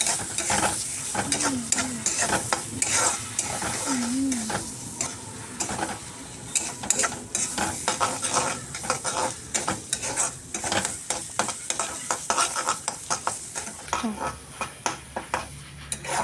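Cumin and coriander powder get stirred through a sizzling pan with a spoon, making repeated scraping and clinking strokes over a constant fry hiss, with faint brief voice-like tones early on.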